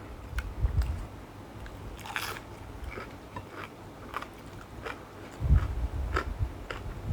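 Close, crunchy bites and moist chewing of grilled sticky rice stuffed with jaew chili dip, a Lao-Isan khao jee, in irregular bursts with quiet pauses and no talk.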